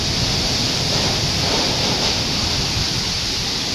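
Heavy typhoon rain pounds under a howling wind in a loud, dense roar that swells slightly midway and stays steady, with no one speaking.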